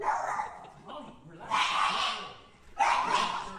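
A pet dog barks and whimpers in short bursts, fairly close, with people talking around it.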